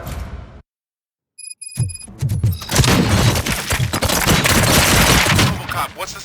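Gunfire in RoboCop: Rogue City: a short silent gap, then a few sharp isolated shots that build into a dense, loud, sustained fusillade of rapid bursts and impacts filling the rest of the scene.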